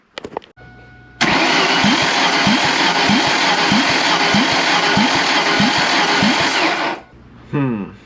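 A car engine cranks steadily on the starter during a compression test on a rebuild with a used cylinder head, a loud whirring drone with regular rhythmic pulses for about six seconds before it stops.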